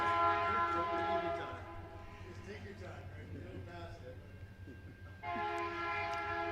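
A train horn blares in long sustained chords near a village council meeting in Vicksburg, fading briefly and then sounding again loudly, with the rumble of the passing train beneath and people talking over it.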